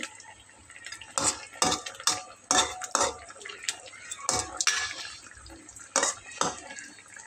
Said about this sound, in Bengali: আমি মাছগুলোর গায়ে মশলাগুলো খুব ভালোভাবে মাখিয়ে দিচ্ছি খুন্তির সাহায্যে।